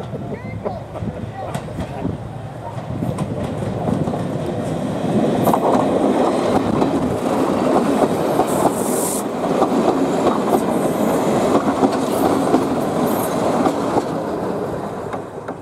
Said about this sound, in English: Passing 5185 and D123 is the Class 101 diesel multiple unit with a train for Loughborough.